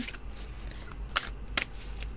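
A large deck of storytelling cards is shuffled up close, giving two short, crisp riffling bursts over a quiet background with no talking.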